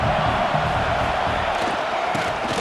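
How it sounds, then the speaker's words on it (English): Stadium crowd noise from EA Sports College Football 26 forms a continuous, dense roar of cheering fans that stays loud and even throughout. "this crowd trying to help keep them there"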